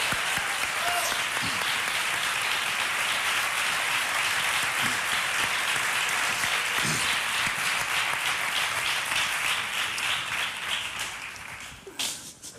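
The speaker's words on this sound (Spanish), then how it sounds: "¿Pueden darle un aplauso?" Studio audience applauding on a Spanish television show, a long, steady burst of dense clapping that fills the room and tapers off at the end.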